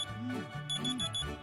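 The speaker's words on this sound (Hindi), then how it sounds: "मेरा अलार्म दोबारा बजा।" A short electronic alarm clock tone goes off again at dawn, a steady looping beep pattern, fairly quiet and heard alone.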